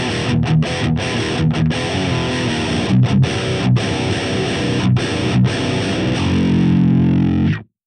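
Heavily distorted electric guitar through a Fortin Grind AX8 patch into a Marshall 1960B cabinet, playing loud, tight chugging riffs with sharp rhythmic stops, ending on a sustained chord that cuts off abruptly.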